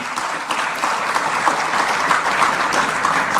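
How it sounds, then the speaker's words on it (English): A crowd gives a round of applause for the Honorable Kyeremanten, loud continuous clapping from many hands that holds steady throughout. "let me ask for a round of applause for the Honorable Kyeremanten"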